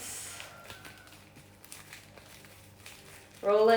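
Soft, papery crinkling of thin nori seaweed sheets being rolled, faint and close, with a louder rustling burst right at the end.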